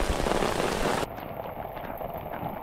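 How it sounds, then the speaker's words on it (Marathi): Heavy rain pours down in a dense, steady hiss, loud at first and then slightly softer but still constant. "असा पाऊस पडायला लागला ना त्याला जोर आला"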